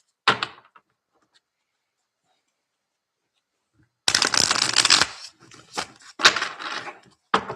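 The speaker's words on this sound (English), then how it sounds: "Let's throw some neon cards." Tarot cards are handled and shuffled close by, a first brief riffle, a long quiet gap, then several loud bursts of shuffling and slapping cards in quick succession.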